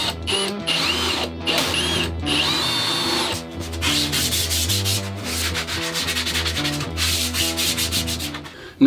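A power drill drives screws through a shop cart top into the frame, loud continuous whirring in repeated bursts with brief pauses, close up and without speech.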